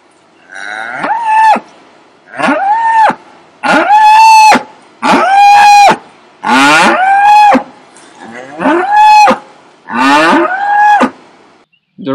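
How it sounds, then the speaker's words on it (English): A mother cow bellows loudly for her stolen calf, seven or eight long, drawn-out moos in a row, each separated by a brief pause, close and raw. "Have you ever heard the scream of a mother cow whose child is stolen from her?"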